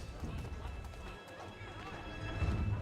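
Horse hooves clip-clop at a gallop in Assassin's Creed III Remastered over busy street ambience. The hoofbeats grow a little louder toward the end, with speech heard faintly beneath.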